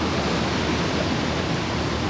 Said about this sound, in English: When the waves are big, it'll fill the whole cave up with water